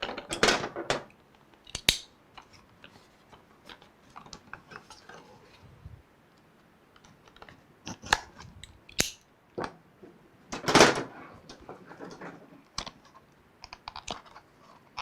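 An AtomMan G7 Ti mini PC with an Intel i9-14900HX and RTX 4070 is opened up and its drive removed, heard as irregular close clicks, taps and plastic handling knocks with quiet gaps between them.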